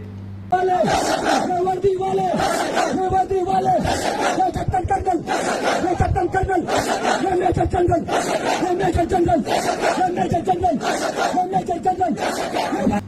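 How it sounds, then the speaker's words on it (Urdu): A large crowd chants slogans against security forces in loud, rhythmic, repeated bursts, voices swelling together in a steady cadence throughout, with a brief quieter moment at the start. "مگر ساتھ سیکیورٹی فورسز کے خلاف نعرے لگائے جا رہے ہیں"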